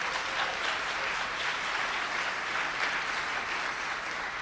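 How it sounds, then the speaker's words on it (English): Audience applause at the second annual Human Rights Campaign Las Vegas gala fills the room: steady, dense clapping of moderate loudness sustained throughout, with no speech over it. "Give them a round of applause."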